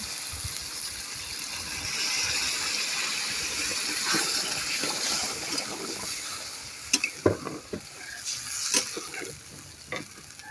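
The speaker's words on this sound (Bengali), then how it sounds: "এখন দিয়ে দেবো পানি" Steady frying sizzle of lentils fills the first half, then water is poured in, with splashes, clinks and sputters as it hits the hot pot.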